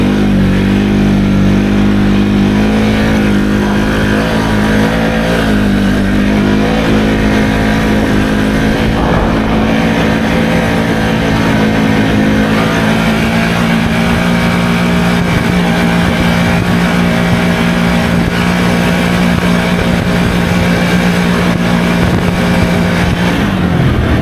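A 2023 Can-Am Outlander XMR700 ATV engine revs hard and continuously while riding through rough ground, a loud, close, droning roar that rises and holds in pitch with shifting load.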